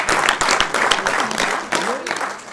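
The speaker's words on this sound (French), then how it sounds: "Donc faut l'applaudir." A short burst of clapping from a small crowd in a small hall at a stage performance, fairly close, with a voice briefly heard over the applause.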